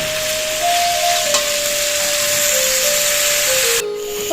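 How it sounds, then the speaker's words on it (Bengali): Onion, potato and carrot frying with salt in oil in a kadai, a steady close hiss of sizzling under a thin tonal whine, with a sharp brief clatter near the end. "কড়াইয়ে তেল দিয়ে পেঁয়াজ আলু আর গাজরটা দিয়ে একটু লবণ দিয়েছি"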